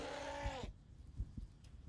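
A goat in a video game lets out a short, loud, harsh bleating scream that cuts off abruptly, followed by faint thuds and quiet background noise.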